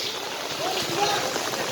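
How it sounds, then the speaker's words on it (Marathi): Heavy monsoon rain pours down during a flood in Kolhapur in July 2024, a steady, dense hiss of falling water that fills the whole short stretch without a break. "पाऊस सध्या जोरात सुरूच आहे."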